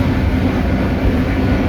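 The 15Up Karachi Express rushes through a railway station in a steady, loud, continuous rumble of wheels and carriages, with no voices.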